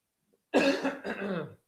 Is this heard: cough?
yes